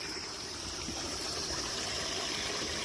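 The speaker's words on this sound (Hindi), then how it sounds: "कलकल कलकल बह रहा है झरना।" A small waterfall in Godavari Park babbles in a continuous, soft, even hiss of falling water that stays fairly distant, with no talking over it.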